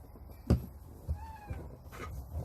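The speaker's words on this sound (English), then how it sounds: "That was my cat." A house cat meows once, a short rising call close by in a quiet room, set between a few soft knocks and thumps from objects being bumped around it.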